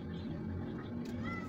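Hungry cats meow for fish as the smell of fish drifts from the kitchen, a few drawn-out close meows mixed with voices talking in the background.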